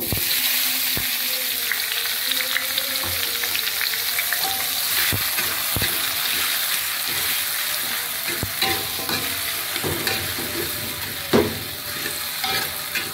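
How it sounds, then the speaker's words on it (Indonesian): Tomatoes sauté in a modest amount of oil in a frying pan, a dense steady sizzle throughout with occasional clicks and scrapes of stirring, close and loud. "Kita tumis tomatnya ya hingga dia layu."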